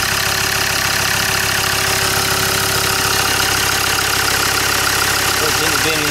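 Land Rover Discovery 2 engine idling steadily with no misfire, a continuous, even hum with a constant drone, close and loud throughout.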